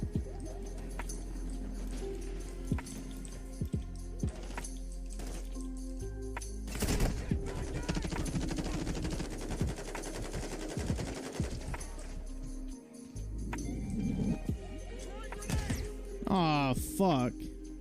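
Bursts of automatic gunfire and single shots in a shooter video game crackle throughout, mixed with game effects and radio-style voice lines, with people talking over the action.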